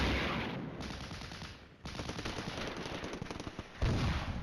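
Distant bursts of gunfire and artillery fire from the Soviet side of the wargame Flashpoint Campaigns Red Storm keep pounding a town edge, with dense rapid rattling and rumbling in two long volleys separated by a brief lull.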